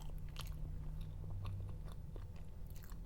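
Close chewing and biting on a soft cream-and-dough dessert, with quiet crunchy bites and mouth sounds spread across a few seconds, no talking.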